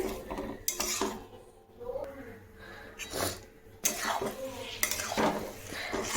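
Semolina upma stirred in a pan after water is added, with irregular scraping and clinking of a utensil against the metal, moderately close and loud and with no talking.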